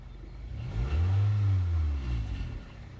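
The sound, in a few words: 2008 Toyota Corolla engine revving to higher RPM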